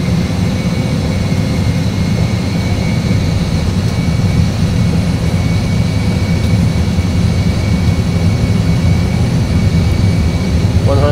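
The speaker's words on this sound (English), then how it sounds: "Take off thrust set." Airbus A320 jet engines at takeoff thrust roar steadily and loudly throughout, a dense continuous wash with a low rumble and faint high whine, no break in level.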